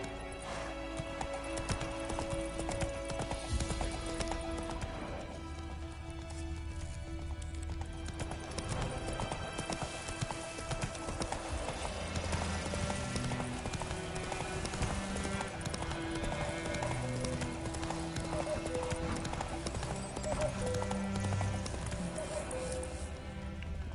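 Geralt's horse Roach gallops across open ground in The Witcher 3, hooves pounding in a fast steady rhythm close by, with game music and ambience underneath and a voice speaking over it at times.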